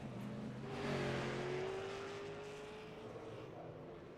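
A race car engine in the iRacing sim at the Las Vegas Bullring revs and drones through a single rising, sustained pull during warm-up, heard fairly faint and steady with no voices over it.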